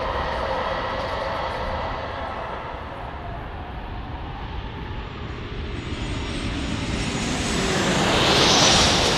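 A fixed-wing airliner comes in to land at San Diego airport, its engine roar steady and broad, swelling louder toward the end as it nears, with no voices over it.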